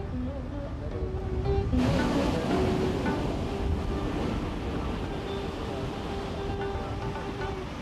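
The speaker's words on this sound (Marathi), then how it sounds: "स्वच्छ सुंदर असा हा मिडगावचा समुद्र किनारा सहलीला जाण्यासाठी एक उत्तम ठिकाण आहे." Waves wash onto the clean, white-sand Midgaon sea beach in Sindhudurg, a continuous broad surf roar with wind buffeting the microphone, moderately loud and without talk.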